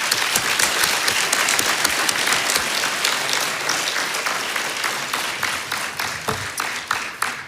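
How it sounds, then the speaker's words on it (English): At a school committee meeting in Attleboro, the audience gives award recipients a warm, sustained round of applause that thins slightly toward the end into more distinct individual claps. "let's offer one more warm round of applause for all of our recipients"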